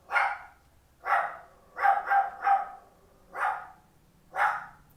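A pet dog barks in about six separate bursts, some doubled, fairly close and moderately loud, with quiet gaps between barks and no talking.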